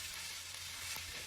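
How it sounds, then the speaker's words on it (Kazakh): Grated carrot sizzles steadily in a hot frying pan, a continuous close crackle with faint stirring, and no voices. "Сәбізімізді жақсылап араластырып қуыратын боламыз."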